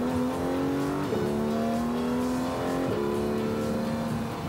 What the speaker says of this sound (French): Le moteur 6 cylindres à plat de chez Porsche a un son qui est unique.